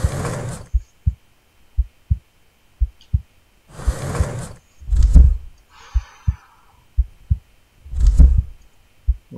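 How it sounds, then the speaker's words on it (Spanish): Heartbeat effect from the horror video game Which Terror: regular pairs of deep thumps repeating steadily, interleaved with several louder whooshing bursts and a brief higher rattling sound. "Vemos el latido del corazón."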